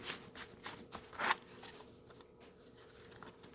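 Stiff tarot deck being shuffled close by, a series of faint, uneven papery flicks and snaps with one stronger riffle burst, then quieter scattered card rustles.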